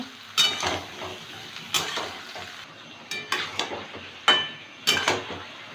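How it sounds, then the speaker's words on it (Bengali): Ridge gourd and potato pieces fry in a pan with a steady soft sizzle, broken by five or six sharp clinks and scrapes as a spoon stirs them against the metal. "এবার ঝিঙেটা দিয়ে দেবো। ঝিঙেটা একটু ভেজে নেব।"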